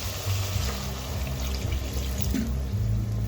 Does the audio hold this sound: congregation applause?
no